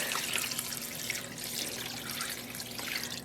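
Water from a pre-soak poured onto twisted yarn for dyeing, a continuous close splashing trickle that stays fairly even and loud for a few seconds, with no voices.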